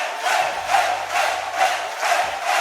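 A crowd bursts into applause and a loud cheering roar in waves of clapping noise, with a low droning tone underneath and no talking.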